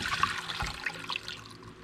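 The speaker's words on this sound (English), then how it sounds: "And I'm going to pour the water off to see how much I have." Ginger infusion water, from soaked dehydrated ginger, pours off in a soft trickling, splashing stream for a couple of seconds, fairly quiet and close.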